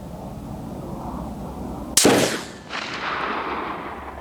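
A single loud, sharp shot from a scoped M1A rifle at an outdoor shooting range, with a long rolling echo that fades over the next two seconds against steady background noise.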